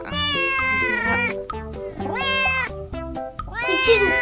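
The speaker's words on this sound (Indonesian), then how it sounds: "Ada kucing." A cat meows repeatedly in a home, several drawn-out, pitched cries in a row, fairly close and clear, with short gaps between calls.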